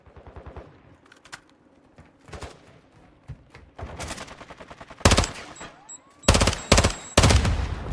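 Gunfire in the Call of Duty DMZ shooter game: rapid automatic bursts, quiet and distant at first, then loud close bursts of several shots each toward the end, with no voices.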